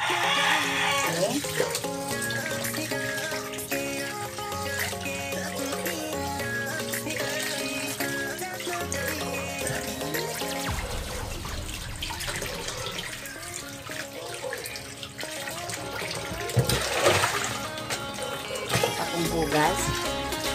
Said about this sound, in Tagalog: Ugasan muna natin yung tilapia.